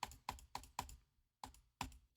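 Mouse clicking while editing in the Bitwig music software, a run of sharp close clicks in a quick regular rhythm, a brief pause, then three more.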